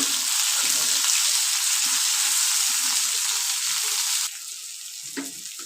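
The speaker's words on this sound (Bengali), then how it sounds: "টমেটোটা কাঁচা লঙ্কাটা কুক করে নেব।" Chopped tomato and green chilli sizzle loudly in hot oil in a pan, a steady broadband crackle that drops sharply in level near the end, followed by a few soft stirring scrapes.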